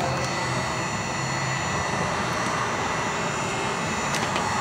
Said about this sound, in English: This heat gun is speeding things up.